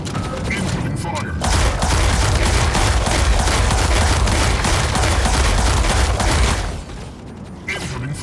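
Dense, rapid gunfire and booming mech weapons from the video game Mech Arena fill several seconds continuously, loud and rattling, then cut off abruptly into quieter game sounds.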